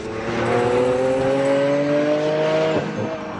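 A Lamborghini sports car engine revs up in a steady climbing whine with strong harmonic tones, then drops off sharply near the end, loud and clear with no talk.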